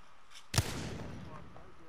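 A single charged energy-rifle shot in the shooter game Apex Legends, a sudden loud crack halfway through followed by a fading crackling tail, with a voice in the background.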